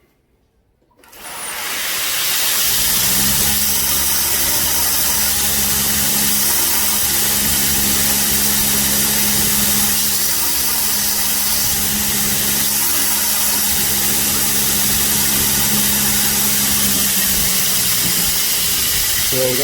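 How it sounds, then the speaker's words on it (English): Bench grinder with a rough grit wheel grinding hand-lapped metal pieces, a loud, steady whirring hiss that starts abruptly and holds continuously with no speech. "I'm going to take these to the grinder very quickly, and I'll show you how they're not flat."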